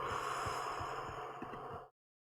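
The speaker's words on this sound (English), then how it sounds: "take a nice deep inhale through your nose, exhale through your mouth" A slow, deep breath drawn in through the nose and released through the mouth during a calm guided meditation, one long steady airy exhale up close that fades abruptly into silence.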